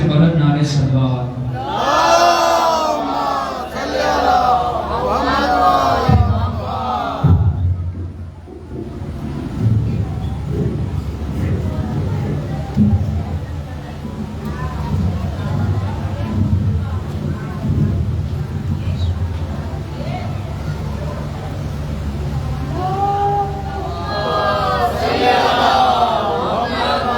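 A large crowd at a Muharram religious gathering chants salawat loudly and in unison, a dense, sustained mass of many voices that swells and holds for a long stretch, with a single voice heard before and after.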